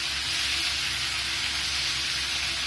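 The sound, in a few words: tomatoes sizzling while being sautéed for garlic kulambu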